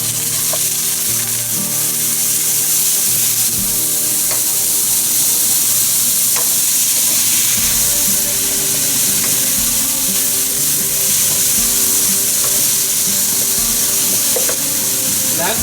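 Chopped onion and green chilies fry in a little hot oil, a steady close sizzle filling the whole stretch with occasional soft stirring scrapes.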